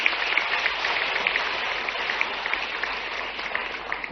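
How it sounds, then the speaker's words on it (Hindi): Loud, sustained clapping from a large audience at a government education event with a chief minister addressing candidates, steady and dense throughout with no voices over it. "उच्च शिक्षा विभाग के लिए जोरदार ताली बजाओ"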